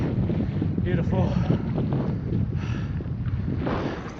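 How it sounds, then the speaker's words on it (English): Strong wind gusts roar across the microphone on North Peak of Mt Diablo, a steady low rumble throughout with faint rustling and no voices. "Oh yeah, nice and windy up here."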